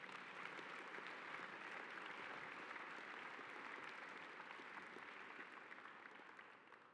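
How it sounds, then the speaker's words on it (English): An audience at a school assembly applauds, a dense, sustained round of clapping that fills the room and tapers off at the end. "Let's give a round of applause to both of them."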